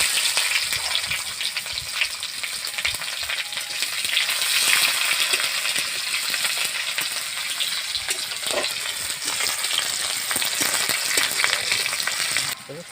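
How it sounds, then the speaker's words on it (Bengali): Chopped onion and whole cumin seeds sizzle steadily in hot oil for a village-style fish curry with potato, a dense, continuous frying hiss with occasional stirring scrapes and small pops, close and fairly loud, with no voices. "পেঁয়াজ কুচানা দিয়ে দিচ্ছি।"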